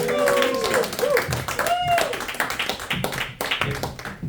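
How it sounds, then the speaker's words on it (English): A comedy club audience claps for the incoming host, a scattered, thinning round of claps mixed with cheers and whoops, under a voice speaking over it. "Thank y'all for them claps."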